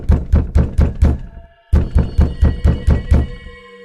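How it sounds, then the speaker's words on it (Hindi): Loud, heavy knocking on a house door in two rapid bursts of about six thuds each, separated by a brief pause, close and forceful with no talking. "फिर वो औरत बहुत जोर जोर से घर का दरवाजा खटखटाने लगती है।"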